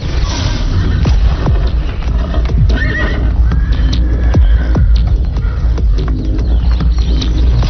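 A horse whinnies loudly near a stable while its hooves clip-clop and shuffle, with steady close hoof and movement noise throughout and no talk.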